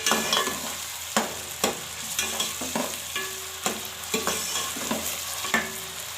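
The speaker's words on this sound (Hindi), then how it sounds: "प्याज फ्राई हो गए हैं" Sliced onions fry in oil for chicken Bombay biryani, a steady close sizzle punctuated by regular knocks and scrapes of a spoon stirring the pan, with no voices.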